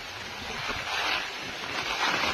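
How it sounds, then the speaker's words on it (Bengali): Strong wind sweeps across an open field beside a banana grove, a steady, loud rushing roar that buffets the microphone, with no voices. "দেখো কিরকম হাওয়া মাঠে।"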